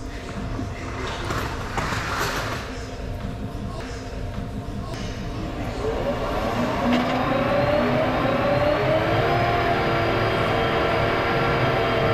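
Electric smart tractors, some driverless, rolling out of a factory: a low engine-like hum and faint voices give way to a steady, rising electric whine that grows louder and nearer.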